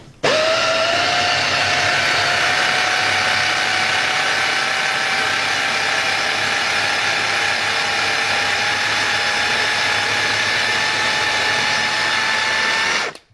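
A food processor blade churns a thick peanut butter mixture, the motor whirring in a loud, steady, close whine from start to finish, its pitch sagging slightly as the dense mixture drags on the blade before it cuts off.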